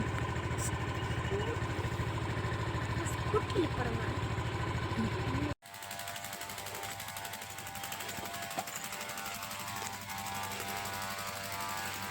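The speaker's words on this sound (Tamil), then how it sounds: "பைக்கில் தான் போயிட்டுருக்கோம்" A motorbike engine drones steadily at close range while riding, then cuts abruptly and resumes with a different, rougher tone as the ride continues.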